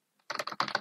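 Rapid clatter of keys on a computer keyboard, a dense run of close, crisp taps with a brief pause midway, no voices.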